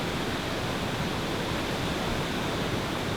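Steady, dense rush of fast-moving water at a waterfall on a brook trout stream, a constant broadband roar with no break or change in level, close and loud with no voices over it.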